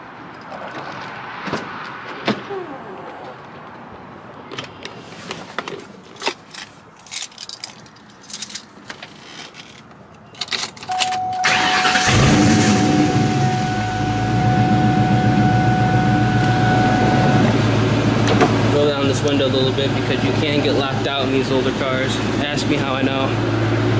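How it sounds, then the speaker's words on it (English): A 2004 Ford Mustang GT with 70k miles starts after some clicks and rattles, then settles into a loud, steady, deep rumbling idle close by, with no talk over it. "I'm going to go ahead and fire up the car right now so you guys can hear what it sounds like."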